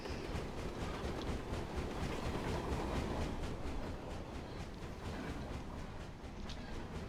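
A train speeds past in a video game with a steady, loud rumble and rhythmic clatter that eases slightly as it moves away.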